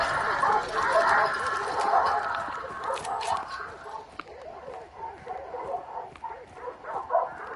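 Dogs bark repeatedly in Call of Duty gameplay, a busy rhythm of yaps over game noise, with someone talking over it at times.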